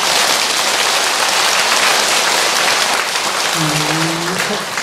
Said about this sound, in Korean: 행복한 사람 박수 한번 치세요.